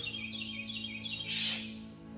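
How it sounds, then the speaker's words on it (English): A few short bird chirps repeat quickly over a low steady hum, followed by a brief burst of hiss; the chirps are faint and somewhat distant. "Sorry about the birds."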